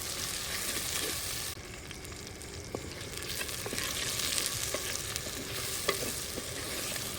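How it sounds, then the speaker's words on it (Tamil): Eggplant sautés in a pan over a wood-fired stove, a continuous close sizzle broken by the scrape and clack of stirring. "கத்திரிக்காய் சேர்த்து நல்லா வதக்கிக்கலாம்."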